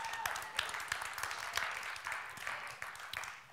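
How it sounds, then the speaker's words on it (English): Congregation applause during a church sermon, fairly soft and somewhat distant, with scattered claps swelling and thinning across a few seconds and a faint voice underneath. "I thought that was worthy of a clap right there."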